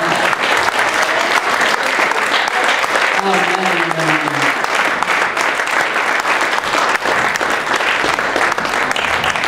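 A church youth congregation applauds steadily throughout, a dense wash of many hands clapping, while a voice briefly calls out and a melodic vocal line rises through the middle.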